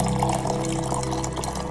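Water poured steadily for a leafy painting, a continuous close trickling splash running under soft background music.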